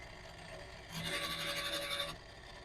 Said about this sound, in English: Deburr, camphor, clean the case mouth, clean the primer pocket.